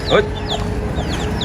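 A mother hen clucks in a short, sharp burst near the recorder, followed by softer bird chirps and farmyard background noise.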